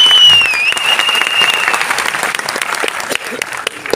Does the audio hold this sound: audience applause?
yes